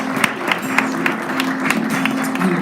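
A church congregation clapping in praise, a steady rhythmic run of claps with voices blended underneath, loud and close.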